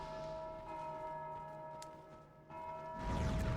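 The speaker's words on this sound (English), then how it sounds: "The bell has been rung." A large bell tolls in Dark Souls 2, its long sustained ringing tones hanging steady before a louder, noisier swell of game sound rises near the end.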